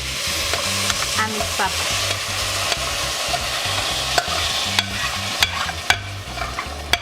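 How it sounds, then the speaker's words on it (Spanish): Potatoes frying in a pan sizzle steadily while boiling tomato salsa is poured and stirred in, with frequent sharp clicks and scraping of the spoon; a voice speaks briefly in Spanish. "Ahora voy a pasar esta salsa que tengo hirviendo"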